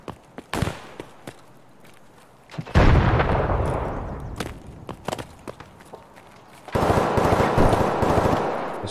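Gunfire from an enemy rider in a shooter video game, sharp isolated shots and short automatic bursts, with a louder close-range stretch of rapid fire, footsteps between, no talking.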